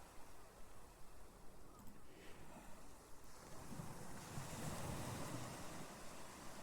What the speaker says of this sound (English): The seagulls are as loud as the waves.